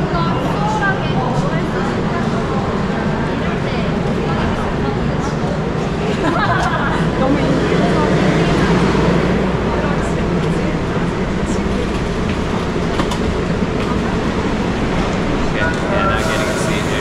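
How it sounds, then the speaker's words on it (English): A Seoul metro train pulls into a late-night station platform as a steady, loud rumble that swells in the middle and then holds, with a crowd chattering throughout. "Yeah, so, train's coming."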